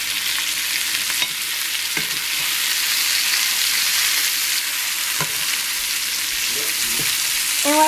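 Chicken boiling in a pot gives a steady, hissing bubble that runs unbroken, with a few faint clicks and taps on top. No one speaks.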